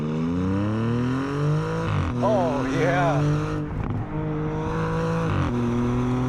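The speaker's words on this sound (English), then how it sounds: "the exhaust pops on the upshift" A 2023 Audi S6 accelerates hard from a near stop, its engine note climbing steadily through the gears with crackling exhaust pops on each upshift. Someone speaks briefly over the loud, close engine.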